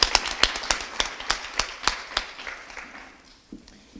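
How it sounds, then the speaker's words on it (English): A breakfast audience claps in appreciation, a short run of distinct sharp claps from a small crowd that thins out and fades after a few seconds. "let's give her another applause for supporting us today"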